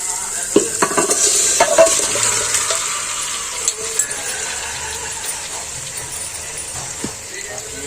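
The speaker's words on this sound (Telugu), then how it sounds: "అంతా ఒకసారి బాగా కలుపుకోవాలండి" Chicken pieces coated in salt, turmeric and masala being stirred in a pan for a chicken curry, close scraping and clattering spoon strokes over a constant sizzle, irregular and loud.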